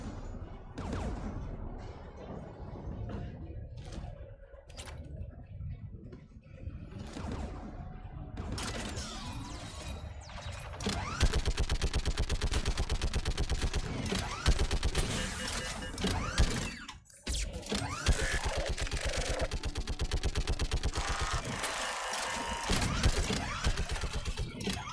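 A geth gun firing in the Mass Effect 3 video game: sparse sharp shots at first, then a long sustained stream of rapid mechanical fire, loud and dense, with a short break midway.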